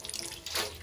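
Water running from a tap into a basin in a bathroom tub area, a steady soft hiss and splash heard alone, fairly faint.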